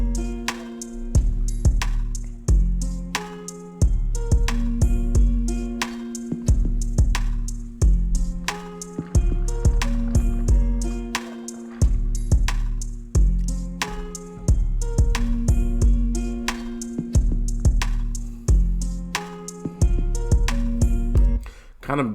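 FL Studio hip-hop beat with an open hi-hat, a West Coast-style tom and a classic bell percussion over deep bass hits, looping in a bouncy, steady groove at moderate volume with no talking.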